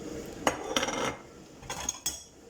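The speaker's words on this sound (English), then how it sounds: "washing and drying up the dishes that I've used" Kitchen dishes and cutlery clink and rattle in a few short, separate bursts of clatter, close by and fairly quiet, with no voices.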